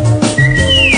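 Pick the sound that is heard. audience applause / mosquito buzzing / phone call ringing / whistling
whistling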